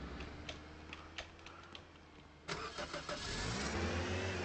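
A truck engine starts up in the Roblox game Lumber Tycoon 2, with clicks leading into a steady mid-pitched motor hum that builds and continues to the end; no talk.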